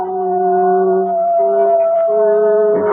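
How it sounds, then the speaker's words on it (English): A lone coyote howls far off on a warm night near an old farmhouse, a radio drama sound effect: one long, steady, wavering cry that holds for about three seconds with no talk over it. "a coyote howled way off in the distance"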